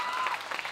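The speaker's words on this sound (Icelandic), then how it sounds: "Mér langar að við gefum hérna smá gott klapp fyrir honum Ágúst" An audience at a school singing competition applauds in a short burst of dense clapping, with a faint tone lingering beneath.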